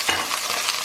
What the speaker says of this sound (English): just toss around in the oil just for a second your vegetables